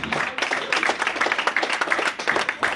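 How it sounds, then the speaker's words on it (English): An audience at an OMX Storm 2017 event claps for performers, a dense, moderately loud patter of hands with uneven bursts throughout. "Give a round of applause"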